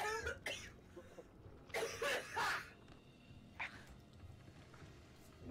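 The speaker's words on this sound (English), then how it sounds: "Did someone just cough up an entire lung?" Several harsh coughing bursts, the loudest cluster in the middle, ring out during a Sea of Thieves pirate game session, with quieter game sounds in between.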